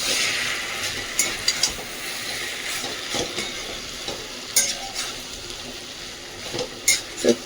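Vegetables are stirred in a frying pan for Indo-Chinese noodles: a steady sizzle with intermittent clinks and scrapes of the utensil against the pan, close and fairly quiet.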